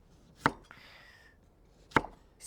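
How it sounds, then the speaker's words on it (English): Two sharp, separate knife strikes on a cutting board as ginger is cut into small cubes, close and clear with a quiet gap between them. "So we're gonna start with chopping some aromats."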